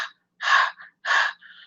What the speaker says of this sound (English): So you're breathing in and out, but using your throat, just so that you locate the part where it is.